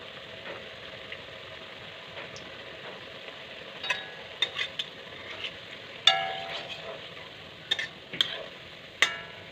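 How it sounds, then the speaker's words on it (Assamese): Ghila pitha frying in warm mustard oil: a quiet, continuous hiss of bubbling oil broken by scattered clinks and scrapes of a utensil against the pan. "এয়া মিঠাতেল অলপ গৰম কৰি, বেছি গৰম নকৰিব, ধোৱাই যাব, অলপ গৰম কৰি ইয়াতে পেলাই দিব।"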